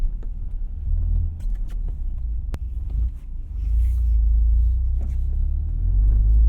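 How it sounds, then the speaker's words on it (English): A Toyota GR Corolla on a winter setup slides sideways down a snowy street in third gear, its engine a loud, steady low rumble that swells toward the end, heard up close from inside with no voices. "Coming down the street sideways in the wrong gear, third gear."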